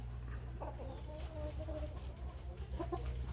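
Burmese game chickens in a pen on a farm give short, scattered clucks and soft calls over a steady low hum, moderately close.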